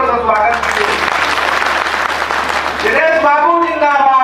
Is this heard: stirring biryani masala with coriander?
no